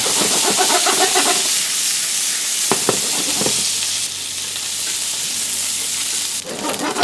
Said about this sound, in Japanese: こんにゃくしっかり中火で炒めていくと水分がねだいぶ飛んできます